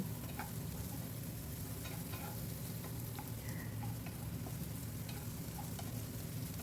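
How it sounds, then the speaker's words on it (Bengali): Cubed potatoes fry in oil with five-spice, giving a steady, even sizzle throughout with occasional light ticks and crackles, close and continuous, no voices. "আলুটাকে একটু নাড়াচাড়া করে ভেজে নিতে হবে"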